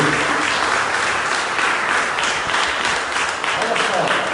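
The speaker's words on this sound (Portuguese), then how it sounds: "já aplaudindo Jesus na vida dele." A church audience claps loudly and continuously, with voices mixed into the steady applause.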